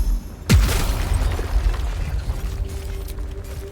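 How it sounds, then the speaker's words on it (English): Crystal vase exploding in Baldur's Gate, a video game: one sharp, loud boom with a falling low thump, followed by a rumbling, crackling tail that fades over a few seconds. "there are 2 ominous crystal vases. Well, I shall explode one of them."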